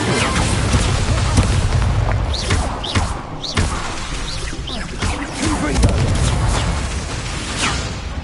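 Booming fiery bursts from the Incendio spell in Hogwarts Legacy, several loud whooshing blasts one after another with thuds among the battle noise and occasional speech.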